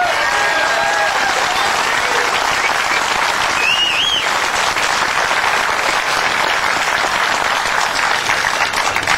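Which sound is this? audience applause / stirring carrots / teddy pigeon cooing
audience applause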